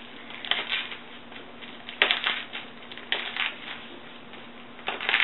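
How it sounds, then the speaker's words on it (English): A tool poking holes through wrapping, heard as crisp, papery crunching and crackling bursts that come in short clusters every second or so over a faint steady hiss. "So I just use this and I just make some holes right through."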